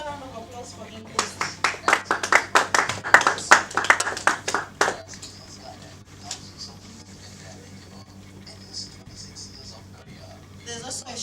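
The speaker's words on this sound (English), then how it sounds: "Another round of applause for him" A short burst of applause from a small group at a speaker event, rising quickly and then fading out after a few seconds, leaving a quiet room with faint murmurs.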